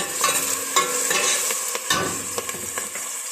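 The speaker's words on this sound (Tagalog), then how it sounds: "Mainit-init na yung ating oil. Lagay na natin yung sibuyas." Onions dropped into hot oil, a steady close sizzle with clinks of a utensil stirring the pan.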